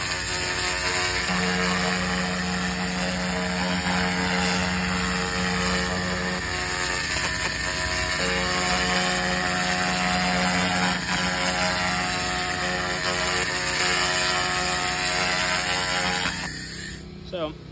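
A Haotian 1500W 3-in-1 laser cleaner runs continuously with a loud, steady high-pitched whine and mechanical hum while stripping rust and paint, then dies down near the end.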